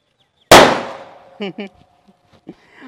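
A single sharp Diwali firecracker bang bursts out loudly, followed by a few faint clattering pops and brief rustling as it fades.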